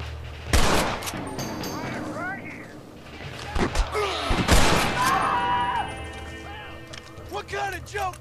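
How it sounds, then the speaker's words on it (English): Enemies shooting in Red Dead Redemption: repeated loud gunshots crack out in irregular bursts, with thumps, ricochet whines and other game effects, while a voice talks over the firefight. "they're shooting us up pretty good here"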